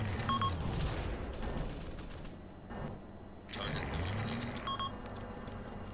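Gunfire in Arma set in Takistan, bursts of rapid shots crackling close and loud, with pauses between the volleys.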